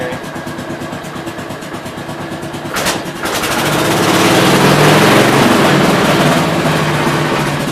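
A 1967 430 engine with its shroud removed runs at idle, then revs up around the three-second mark into a loud, steady, sustained roar that holds to the end.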